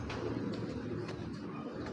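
Pigeons of the Pankhi line, including a hen bird, coo softly and steadily at a breeding farm for racing birds, with a continuous low murmur and faint chirps.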